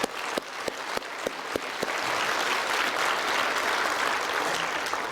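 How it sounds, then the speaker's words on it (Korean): A church congregation breaks into sustained applause in praise of God, starting with a few scattered claps and swelling into a dense, steady roar of clapping from a large crowd. "우리 하나님께 영광의 박수 올려드리겠습니다."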